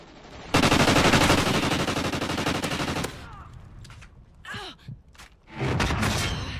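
Rapid automatic gunfire from the video game Warhawk, loud and continuous for a few seconds, then breaking into scattered shots and thuds with brief voices and sighs.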